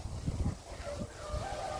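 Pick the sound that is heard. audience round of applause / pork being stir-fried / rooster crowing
rooster crowing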